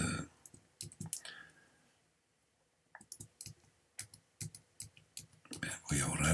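Repeated sharp mouse clicks from painting with a brush in Photoshop, arriving in uneven bursts and short rapid runs at close range, with a person talking between and over them.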